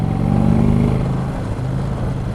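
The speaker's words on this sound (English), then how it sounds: "I mean, I'm loving the exhaust note." Low rumbling exhaust of a stock Indian Chieftain motorcycle heard while riding, a steady deep engine drone with slight swells and dips in pitch, close and loud, with no talking.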